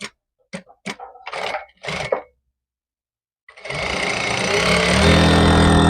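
Sewing machine stitching along a shirt neckline edge: a few short separated bursts of running, then after a pause a long, loud, continuous run of stitching up close.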